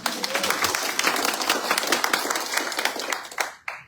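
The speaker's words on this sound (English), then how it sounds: "Do a big round of applause to our students." A crowd applauds students at a Montebello Elementary/Middle School awards event, dense steady clapping filling the room for several seconds before it cuts off abruptly near the end.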